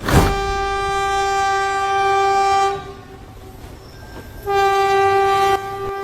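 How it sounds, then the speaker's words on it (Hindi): A cartoon train pulls in with a loud sustained horn blast, then a pause of rumbling and a second horn blast, all without voices. "अरे यार ट्रेन तो आ ही गई"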